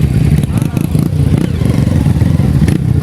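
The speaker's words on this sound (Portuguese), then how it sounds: "Tem que olhar as motos aqui dentro, aqui, ó." Motorcycles pass close by with a loud, steady engine drone and clattering rumble, someone talking over the noise.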